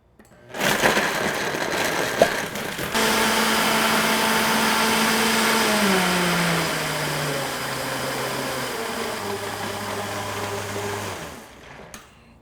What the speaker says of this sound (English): Let the blender do the work.